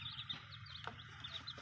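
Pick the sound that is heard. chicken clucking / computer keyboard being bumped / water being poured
chicken clucking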